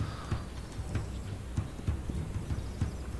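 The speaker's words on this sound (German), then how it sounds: "Jetzt habe ich das Pferd gerufen." A horse's hooves in the video game This Land Is My Land clip-clop in a steady, fairly quick rhythm, faint and mid-distance against a soft game ambience.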